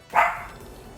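A single short dog bark from a dog kept outdoors, heard once, moderately loud and a little distant, with quiet room tone after it.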